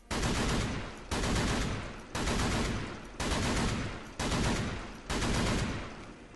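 M4A4 rifle fire in CS:GO: six loud, close bursts about a second apart, each a rapid stream of shots that tails off before the next burst starts.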